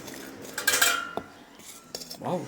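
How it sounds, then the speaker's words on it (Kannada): An idli cooker lid is lifted off in a home kitchen with a few clanging metallic knocks and a scraping clink, then lighter taps and a faint hiss. The sounds are close and clear, with no talking. "ಇಡ್ಲಿನೂ ಕುಕ್ಕರ್ ಮುಚ್ಚ ತೆಗೆದು ನೋಡೋಣ"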